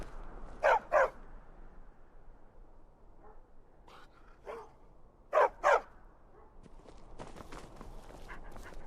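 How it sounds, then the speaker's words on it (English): A dog barks in two close pairs of sharp woofs, with softer yips and shuffling between, moderately near against a quiet background. "Hold on, this damn dog"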